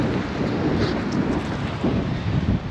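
Strong wind buffets the microphone on a cold coast in rural Uruguay, a steady low roaring rush with gusty swells throughout, no voices.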